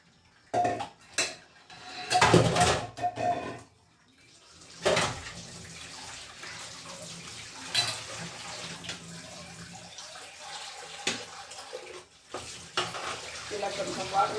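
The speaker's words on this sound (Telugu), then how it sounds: "ఇలా కొంచెం వాటర్ కూడా పట్టేసుకోవాలండి" Tap water runs over boiled noodles held in a strainer, a close splashing rinse coming in uneven bursts with clinks of a metal sieve and pot, and a voice speaking briefly at times.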